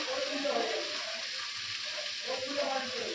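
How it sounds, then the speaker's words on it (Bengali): Grated coconut goes into a hot frying pan, giving a steady, close hissing sizzle with soft stirring scrapes running throughout, continuous and fairly loud. "আর এখন মাসি নারকেলটা দিয়ে দিচ্ছে"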